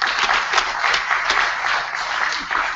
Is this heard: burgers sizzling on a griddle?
no